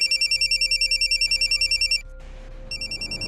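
Telephone ringing with an incoming call, a rapid electronic trill pulsing in quick bursts, pausing briefly, then resuming, close and clear over a faint steady tone.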